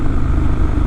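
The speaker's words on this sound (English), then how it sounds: "this thing with this Zard exhaust is like the Harley of adventure bikes" An adventure motorcycle fitted with a Zard exhaust gives a steady, loud, deep rumble up close, with no talking over it.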